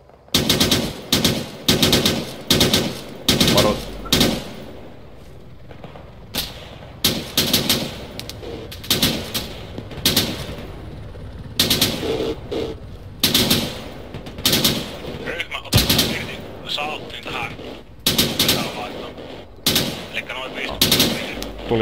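Bursts of gunfire and machine gun fire, loud close rapid rattling volleys separated by short pauses and repeating throughout, with occasional faint voices between the bursts.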